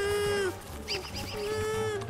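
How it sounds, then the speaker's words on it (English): Moslings in Don't Starve Together give drawn-out honking calls, loud and near, two long tones with a brief noisy gap between them. "Hope the Mother Goose can hear the call of these muslings."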